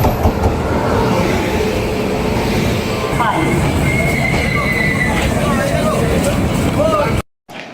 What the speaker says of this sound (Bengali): এখান থেকেই ধরবো আমরা 22387 app Howrah Dhanbad black diamond express. এই যে এসে গেছে আমাদের ট্রেন।